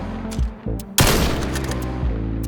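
Rifle shots from a bolt-action rifle crack in a VR shooter, a few sharp close reports with one loud blast followed by a ringing tail, heard over a steady game soundtrack.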